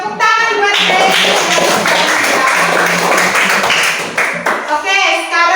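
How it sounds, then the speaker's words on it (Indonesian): Students in a classroom clap for a classmate, producing a loud, dense burst of hand claps that runs nearly throughout, mixed with children's voices and chatter. "Tepuk tangan buat Grace."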